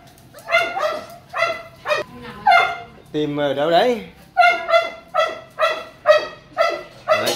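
Phu Quoc dogs bark in a kennel, a loud, regular run of sharp close barks, broken midway by a drawn-out whining yelp, while a person speaks briefly.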